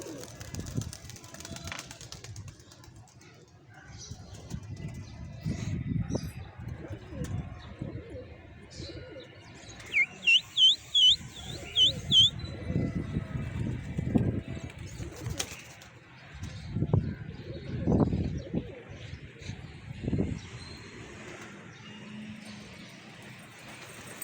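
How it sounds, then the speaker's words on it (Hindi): Low, soft racing pigeon coos repeat in bursts alongside brief chirps and a short flutter of wings, with faint voices in the background. "इन कबूतरों में तकरीबन 20-22 कबूतर रेसर हैं।"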